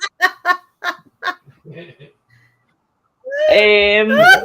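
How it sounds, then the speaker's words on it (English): A chicken clucks in short repeated bursts, followed by a louder, drawn-out honking call near the end, close and clear with no talk over it. "Oh, there's Tom and his chicken"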